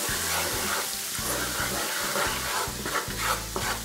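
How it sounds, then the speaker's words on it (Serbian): Garlic and a ladleful of flour stir-fried together in a pan for spinach, a steady loud sizzle with repeated low scraping strokes of a wooden spoon throughout. "dodat ćemo ovako jednu varjaču brašna i zajedno pržiti"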